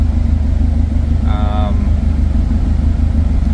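Car engine idling steadily after a front-mount intercooler install on a speed density basemap, a continuous low rumble throughout with a brief higher tonal whine midway.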